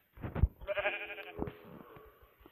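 A sheep in a multiplayer survival video game bleats a few times up close, one wavering call after a short grunt, fairly quiet and clear.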